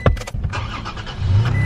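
A pickup truck cruises along the road, heard from inside as a loud, steady engine and road hum with a brief rattle at the start.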